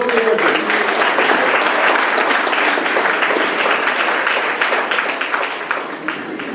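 A crowd at a golden wedding anniversary celebration in Marly, France, claps loudly and continuously. The dense, sustained applause fades only slightly toward the end.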